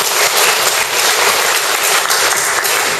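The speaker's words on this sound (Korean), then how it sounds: "박수 한번 주십시오" Dense audience applause at a large speech gathering, many hands clapping together in a loud, even roar that holds steady for a few seconds.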